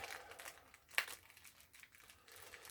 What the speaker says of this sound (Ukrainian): Навіть не зіп пакетик, а просто ось целлофановый пакет на скотчі.